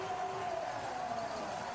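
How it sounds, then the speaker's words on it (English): Excited crowd noise at the Holmenkollen biathlon World Championship pursuit in Norway, a steady, dense roar of cheering spectators sustained without a break, with no clear single voices standing out. "excited crowd of Holmenkollen"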